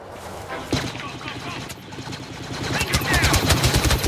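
Gunfire from the Star Wars Battlefront video game, bursts of rapid automatic shots and blaster-like fire, growing denser and louder toward the end, with players talking over the action.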